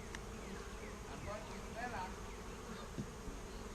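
Honeybees drone steadily around an open hive during an inspection, a close, continuous buzz with individual bees flitting past.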